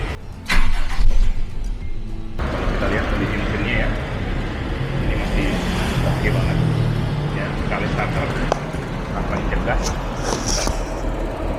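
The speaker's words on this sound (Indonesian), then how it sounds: "Coba kita nyalakan mesinnya." A 2001 Toyota Kijang LGX 1.8 EFI engine idles steadily with a low, continuous rumble after a brief mechanical clunk, while a person talks over it.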